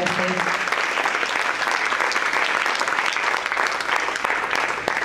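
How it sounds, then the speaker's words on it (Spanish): A church congregation clapping together, continuous dense applause that fills the room at steady volume throughout, with a voice briefly audible under it at the start. "Dele palmas al Señor"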